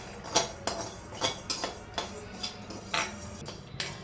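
Dry chillies, garlic, ginger, cumin, fennel and coriander are roasted in a dry pan, with a spatula clinking and scraping against the metal in a regular rhythm of about two strokes per second, close up and moderately loud.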